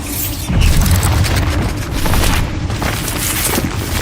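A Bombarda spell exploding in Hogwarts Legacy during a duel, producing a deep rumbling boom that swells and lingers in a dense wash of spell effects, with no talking.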